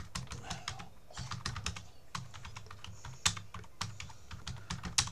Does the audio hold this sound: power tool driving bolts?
no